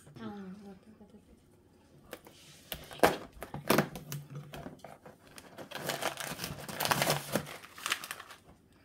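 An Advent calendar's day-8 door is opened, with paper crinkling and tearing in bursts of rustles. Voices talk over it at times.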